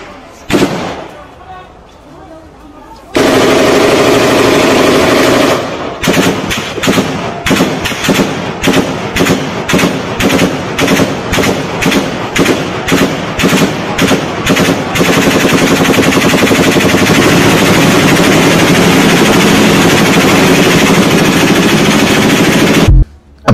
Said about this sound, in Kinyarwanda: Amasaha yaranzwe n'urusaku rw'amasasu menshi cyane ndetse n'ibifaru